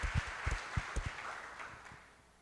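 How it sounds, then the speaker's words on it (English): An audience at a conference panel gives a short round of applause for the event staff and technical crew, with scattered claps that fade out quickly into quiet. "One more round of applause for everybody in the back."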